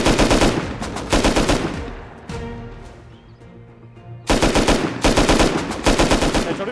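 Rapid automatic gunfire from the video game Rust, loud and close, comes in dense bursts at the start and again near the end, with a quieter gap of scattered shots between.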